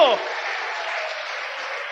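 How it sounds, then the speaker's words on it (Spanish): A church congregation breaks into loud, sustained applause with steady clapping that fills the space at a constant level, briefly overlapping a voice at the start. "¿Cuánto le dan un fuerte aplauso al Señor?"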